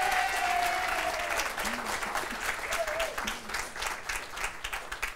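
An audience claps throughout a quiz semifinal in Macau, with dense, continuous applause from a crowd and a few faint voices under it.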